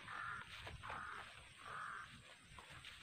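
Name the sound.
crow cawing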